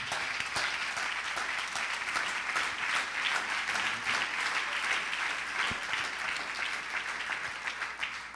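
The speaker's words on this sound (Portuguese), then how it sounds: "vamos receber, aplaudindo o nome do Senhor Jesus, reverendo pastor Alex Macedo" Sustained applause from a large church congregation at a vigil, dense and even, continuing for several seconds with a slight fade at the end.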